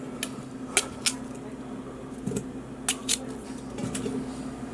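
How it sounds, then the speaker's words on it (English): A knife chops red potatoes in a few sharp, separate clicks and thuds against a board, spaced irregularly over a low steady background. "we'll whack up some red spuds"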